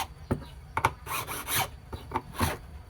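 A metal file rasps against a ring being finished, several short scraping strokes at an uneven rhythm, close up and fairly quiet with no voices.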